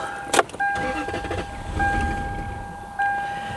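A Lexus LS400 engine, abandoned for 10 years, cranks with rough bursts, then catches with steady whining tones that stop and restart, close and fairly loud.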